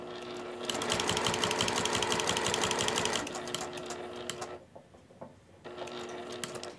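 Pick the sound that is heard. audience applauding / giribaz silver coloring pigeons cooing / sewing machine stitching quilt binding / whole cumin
sewing machine stitching quilt binding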